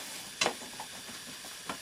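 Leeks sizzle in a frying pan as they are stirred, a faint steady hiss with a few soft scraping clicks from the utensil, close and quiet with no voices.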